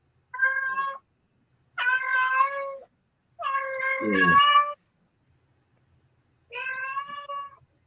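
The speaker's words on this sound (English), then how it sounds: "a hungry cat" A hungry cat meows four times up close, each call drawn out and loud with long pauses between, and one cry dipping into a lower, throaty growl.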